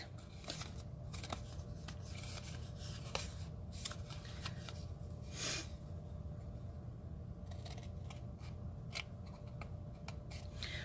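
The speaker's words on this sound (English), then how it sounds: "take my snips and I want to cut out these squares on each side" Snips cutting squares from the sides of a small paper treat bag, a string of short, faint crisp snipping clicks over a steady background hiss.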